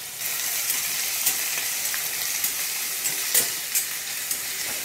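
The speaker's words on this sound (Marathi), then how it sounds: "आता एक मोठ्या आकाराचा कांदा एकदम बारीक चॉप केलेला त्याच्यात फ्राय करायचा आपल्याला।" Finely chopped large onion fries with curry leaves in a pan, giving a steady, close sizzle broken by occasional sharp clinks and scrapes of stirring.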